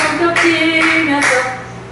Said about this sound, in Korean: 손뼉 치면서